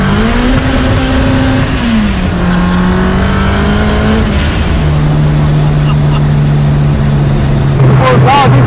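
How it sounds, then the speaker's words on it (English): A 540bhp Vauxhall Chevette sleeper accelerates hard, its engine droning loud and steady through the gears with a shift drop midway, wheels spinning, while voices talk over the roar. "Bear in mind that's still wheel spinning as well all the way down."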